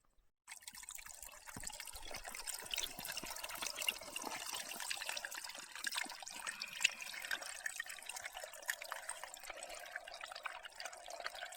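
Steady trickling and splashing water, like a bottle being filled from a small stream on the Pacific Crest Trail, continuing evenly from start to finish with no voices.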